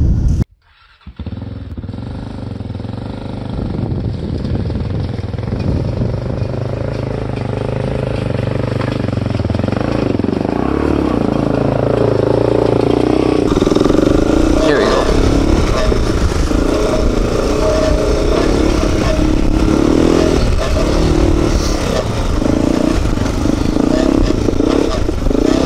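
A Honda ATV rides along an icy offroad park trail, its engine a steady loud drone that swells as it picks up pace, with clattering over rough ground and someone talking over it.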